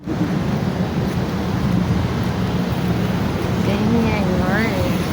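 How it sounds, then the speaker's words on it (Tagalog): Heavy rain roars as a constant, dense wash of noise, with faint voices rising briefly underneath toward the end. "Grabe ang lakas ng ulan oh."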